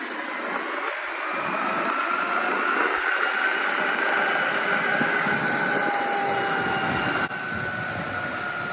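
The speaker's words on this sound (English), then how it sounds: "So instead of showing a random acceleration test, here's the Ownboard versus the Evolve GTR." Ownboard Bamboo Pro AT and Evolve GTR electric skateboards accelerating side by side in a race, one on 120mm cloud wheels and one on 105mm wheels, giving a steady, loud rolling rumble with rising motor whine and no talking.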